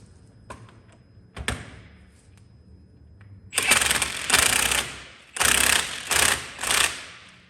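A nut being tightened on the sector shaft of a Dodge/Chrysler A, B and E body power steering box during an overhaul: a few faint taps early, then several loud bursts of ratcheting metallic clatter in quick succession, close up.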